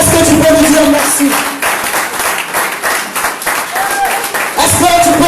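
A church congregation at a Sunday worship service applauding and cheering, dense loud clapping with shouts of acclaim, and a voice speaking over it at the start and end.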